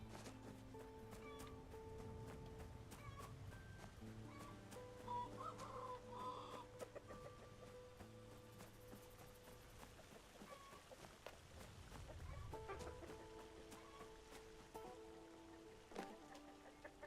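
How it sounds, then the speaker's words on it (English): A chicken clucking in the video game Regions of Ruin, faint and intermittent over steady game music and background ambience. "There's a chicken hiding down below there."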